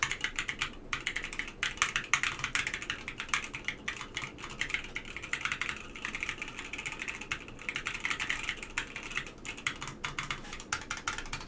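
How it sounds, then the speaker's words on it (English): Fast continuous typing on a mechanical keyboard with scratchy NK Cream switches in a Hippo TKL build, close and crisp clacking with brief pauses between bursts. "it's a very scratchy, very kind of classic sounding switch. So let me just kind of type with it."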